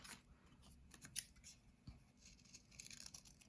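Scissors snip paper while cutting around a shape with a white border for a spooky haunted house craft, several quiet close crisp cuts in quick succession with soft rustling.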